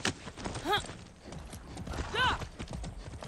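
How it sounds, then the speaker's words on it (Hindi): A horse clip-clops in the video game Far Cry 6, with two short neighing calls over a steady hoof rhythm and game ambience. "मैं तेरे दोस्त हूँ घोड़े, तू घबरा रहा क्यों इतना?"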